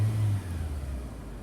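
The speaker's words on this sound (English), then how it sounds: "A bit of a rev just before make sure there's no smoke coming out the back." A Renault car engine revs briefly with a low, steady rumble that eases off after a moment, heard close and alone.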